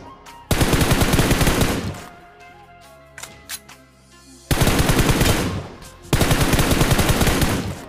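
Bursts of automatic gunfire in the BGMI battle royale game, aimed at an enemy sniper: a loud sustained volley, a short lull with scattered shots, then two more long, heavy bursts.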